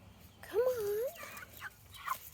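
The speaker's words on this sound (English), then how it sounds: "it's a little hen and a little rooster" Small hen and rooster chickens give a few short clucking and warbling calls, one drawn-out call standing out near the start, with faint background noise and no talk.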